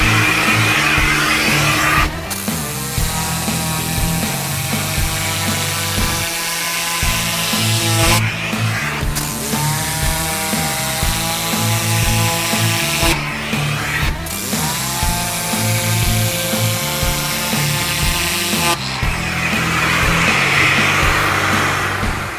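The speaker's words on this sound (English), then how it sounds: "Turn your vacuum on." A carpet extractor vacuum cleaning a car's interior carpet runs loudly and continuously, a steady whine with a humming motor tone that briefly cuts and restarts several times.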